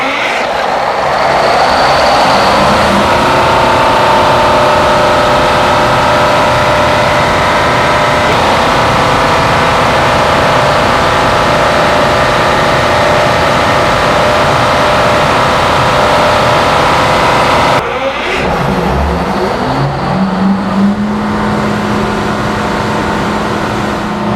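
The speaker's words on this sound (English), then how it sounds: "16V92T Kohler Genset, a 16-cylinder beast with 4 turbos, start after 10 years of silence." A Kohler 16V92T 16-cylinder, four-turbo diesel generator set of 1,000 kilowatts runs loud and close after sitting unused for ten years, a dense sustained engine roar with a sudden shift in tone and rising whine late on.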